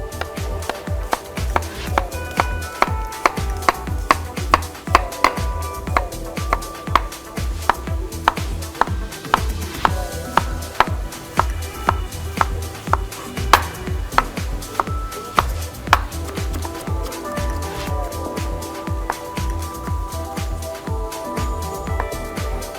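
Sharp knife steadily chopping onion on a cutting board, a fast, even run of close, crisp taps that keeps going without pause and with no talking.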